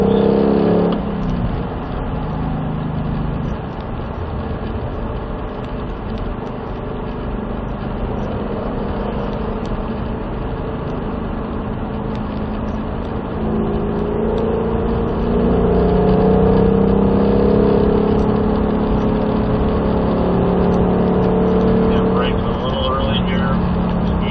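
A car accelerates on the throttle while exiting a corner: a loud, steady engine drone from inside the cabin that swells and rises in pitch late on, with a voice talking over it.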